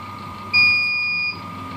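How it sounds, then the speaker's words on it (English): A Gene Cafe CBR 1200 coffee roaster gives off a single sustained electronic preheat beep, one steady tone lasting under a second over a low mechanical hum, loud and close. "now that's the final preheat beep"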